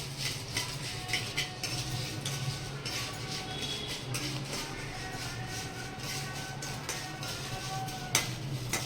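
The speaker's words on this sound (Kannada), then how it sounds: "ಇದು ಸ್ವಲ್ಪ ಲೈಟಾಗಿ ಫ್ರೈ ಮಾಡ್ಕೊಂಬಿಡಿ" Green chillies frying gently in a little oil for mutton curry, a soft steady sizzle with faint utensil scrapes and clinks as they are stirred; quiet and close.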